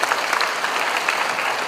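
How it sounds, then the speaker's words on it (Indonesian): Applause from an audience at an Indonesian diaspora economic discussion event, a steady dense clapping that fills the whole short moment without pause. "Tepuk tangan dulu untuk Pak Bambang."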